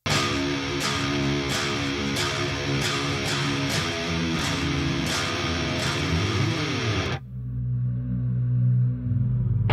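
Electric guitar plays a harmonized metal riff, dense and sustained with regular rhythmic accents, then cuts to a quieter, thinner guitar line near the end.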